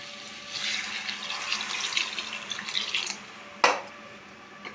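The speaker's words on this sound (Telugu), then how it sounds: "మునక్కాడ ఉడకాలి కాబట్టి నేను ఒక గ్లాసున్నర వాటర్ పోసుకున్నానండి" Water poured steadily into a cooking pot of prawn, drumstick and egg tomato curry, a broad splashing rush for about three seconds, followed by a single sharp metallic clank of the vessel.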